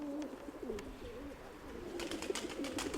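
Domestic pigeons coo softly in a loft during a December lull, low rolling calls repeating over a faint noisy background, with brief rustling near the end.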